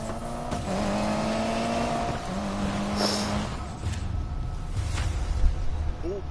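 Racing car engine in a PS4 racing video game, a steady loud drone with gear-shift steps in pitch, revving rises and brief tire noise throughout.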